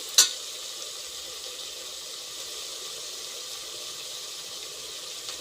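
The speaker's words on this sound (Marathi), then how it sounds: "मस्त भाजू द्यायचं." A ground paste of ginger, garlic, coconut, chopped coriander and salt sizzles steadily in a hot pan, starting with a sharp crackle as it hits the oil, then a constant close hiss with no talking.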